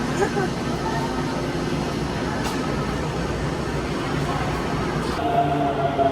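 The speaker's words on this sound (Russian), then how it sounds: "Наконец-то мы дождались, наш поезд приехал." A train rumbles steadily in a low, continuous roar, like a metro pulling into a station, with faint voices in the background.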